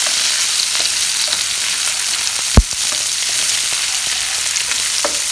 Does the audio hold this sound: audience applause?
no